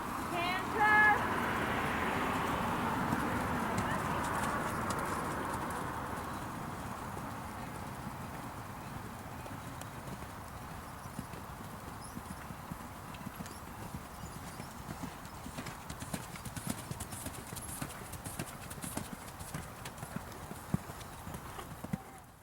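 Horse cantering during an equine evaluation, rhythmic hoofbeats at a moderate distance under a faint voice at the start, with steady background hiss.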